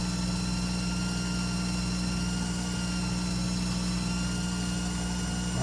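Lathe spinning while buffing the ferrule of a billiard cue tip, a steady loud mechanical hum and whir that holds unchanged throughout without pauses.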